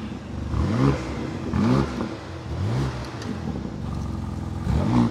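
BMW G81 M3 Touring exhaust with a valve controller, idling with a low rumble and rising in several short repeated revs, close and fairly loud.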